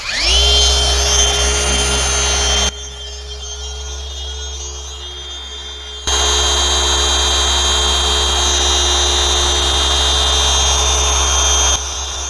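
A car polisher fitted with a low profile polishing pad hums steadily as it works Sonax Perfect Finish coating onto a car's paint. The motor is near and loud, briefly dropping in pitch and level partway through before rising again.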